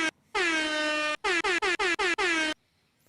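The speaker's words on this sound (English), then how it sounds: "let's give a big air horn for everybody" An air horn blares in one long blast, then a rapid series of five short honks and a final sustained blast, loud and close.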